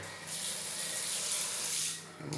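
Shower spray hisses steadily in a golden bathroom, a bright continuous rush of running water that stays fairly even, then drops off near the end.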